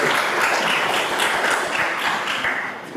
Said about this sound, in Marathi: आपण आपल्या जागेवरूनच आपल्या या संस्थेसाठी जोरदार टाळ्यांचा गजर करावा